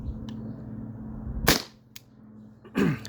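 A T4E TR50 CO2 air pistol fires rubber and steel balls: two sharp, close cracks about a second apart plus a faint tick between, over a steady low background hum, with no talking.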